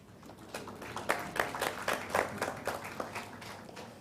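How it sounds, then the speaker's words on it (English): Scattered audience clapping at a company annual general meeting after a resolution passes, a modest number of hands producing uneven bursts that swell and fade without cheering. "Clap if we want to clap."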